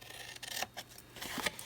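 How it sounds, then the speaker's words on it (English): Scissors cutting up to a score line on a paper craft box, a few short crisp snips and rasping strokes with brief pauses, close and fairly quiet. "now I'm going to take my scissors and I'm going to cut"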